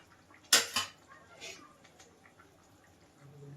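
A metal lid clanks down onto a pot of fish cooking on the stove, one sharp clatter followed by a smaller knock, with a faint later clink and people talking quietly nearby.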